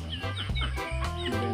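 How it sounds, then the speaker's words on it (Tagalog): Chickens of various breeds, native and imported, on a farm, clucking repeatedly in overlapping close calls, with a busy mix of several birds at once and no talk. "dito mo makikita yung iba-ibang variety ng manok"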